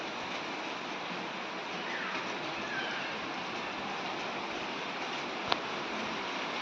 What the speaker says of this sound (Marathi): खूप असं जोरात पाऊस चालू झालेला इथे